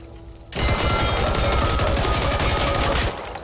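Shotgun fire in the Back 4 Blood zombie video game, a loud, dense burst of rapid blasts running continuously for about two and a half seconds, close and harsh, with no voices over it.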